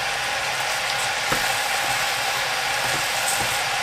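Rice fries with a steady, even sizzle in a kadai while making namkeen chawal, a continuous crackling hiss with a few faint scraping clicks.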